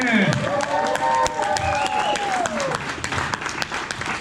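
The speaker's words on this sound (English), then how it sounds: "let's give a big round of applause and welcome to Bushwacker Luke and Ted DiBiase" An audience at a pop culture convention applauds to welcome wrestling legends Ted DiBiase and Bushwacker Luke to a panel. The clapping is sustained and fairly loud, and tonal sounds are heard alongside it.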